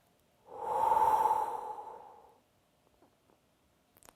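A single long, breathy exhale during a core exercise, close and fairly loud, lasting about two seconds before fading into quiet.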